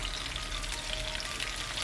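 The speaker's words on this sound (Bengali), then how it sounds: "লবণ অ্যাড করার পরে কিছুক্ষণ নাড়াচাড়া করে সব কিছু একসাথে মিলিয়ে নিচ্ছি।" Onion and tomato frying with salt in a pan give a steady, close hiss of sizzling, even and unbroken throughout, with no talking.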